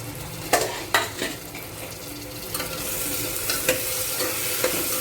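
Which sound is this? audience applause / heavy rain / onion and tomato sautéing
onion and tomato sautéing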